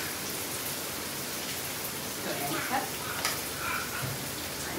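Onion roasting in a pan with a little salt, a steady close hiss and crackle throughout with a few brighter pops toward the middle.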